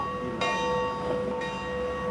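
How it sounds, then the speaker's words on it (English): A tolling bell rings out in two resonant strikes about a second apart. Each one leaves a long, humming tonal decay that hangs in the air at a moderate distance. "A tolling bell."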